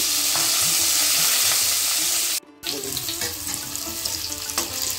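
Coconut pieces and potatoes sizzle in hot oil in a pan with a constant crackling hiss and scrapes of stirring. The sizzle drops out for a split second midway, then resumes slightly softer.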